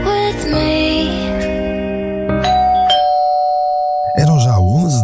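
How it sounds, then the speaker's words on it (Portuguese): A front-door doorbell rings out loud and clear with a sustained ding-dong chime that decays over several seconds amid background music, followed by a swelling tonal sound near the end. "Eram já 11 da noite quando a campainha da porta de André o acordou daquele descanso inadiável"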